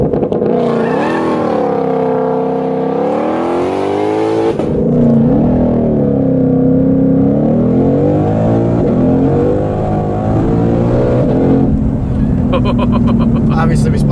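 A turbocharged all-wheel-drive Ford Explorer launches hard from a stop with its tires spinning, the engine revving loudly and climbing continuously, with people talking over it throughout.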